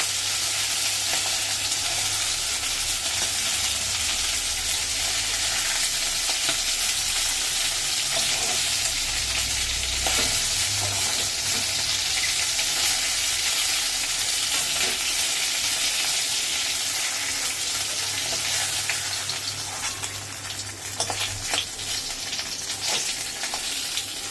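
Fish head and potato pieces frying in hot oil: a steady, dense sizzle that crackles evenly throughout at close range, with a few brief stirs or spatters and no talk.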